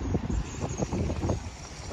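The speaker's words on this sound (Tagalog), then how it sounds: "Tapos yan, medyo mahangin na." Wind gusts blow outdoors beside a park and playground, rumbling loudly across the microphone in uneven low bursts with no voices.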